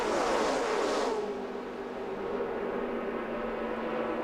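ARCA race cars at speed on the Talladega superspeedway, a loud roar that fades out as a pack passes by, followed by a steady engine drone.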